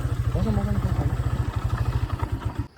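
A motorcycle rides along a mountain road, its engine thumping in a fast, even pulse close by, while someone talks over it.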